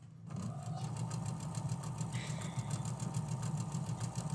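A sewing machine stitches nearby, its rapid, steady mechanical chatter continuing without a break.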